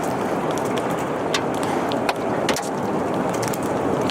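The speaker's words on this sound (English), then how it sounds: "Ones moving through trees, like this one here, get louder and can sound more like a jet engine." A tornado tearing through trees gives a loud, unbroken broadband roar, like rushing wind or a jet engine, with sharp crackling bursts riding on top.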